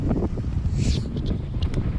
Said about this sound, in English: And oh my god, it's windy.